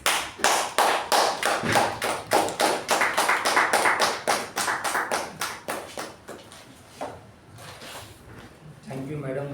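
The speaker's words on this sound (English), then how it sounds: "please join me in welcoming the general evaluator for today, DTM MU Bhat, with a thunderous round of applause" Meeting audience welcoming a speaker with a burst of clapping, sharp close claps in a fast irregular rhythm that thin out and fade over several seconds before quiet voices return.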